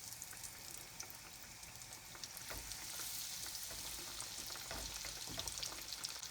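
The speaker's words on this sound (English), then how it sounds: "And fry it until it's brown again on both sides." Breaded pork schnitzel fries in a pan with a continuous soft sizzle and scattered crackles and pops, fairly quiet and steady, with no voices.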